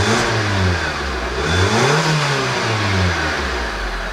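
A misfiring Nissan Tiida engine runs close up, its revs rising and falling in repeated smooth swells over a steady idle.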